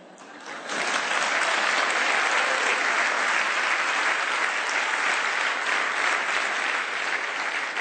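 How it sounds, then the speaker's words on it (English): An audience breaks into sustained applause that starts abruptly and stays loud and dense for several seconds, a steady wash of clapping without talking. "thank you for the applause"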